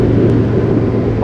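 A Harley-Davidson motorcycle on the highway, fitted with a custom 3-inch exhaust with a filter and its baffle removed, gives a loud, steady, close engine rumble with no pauses.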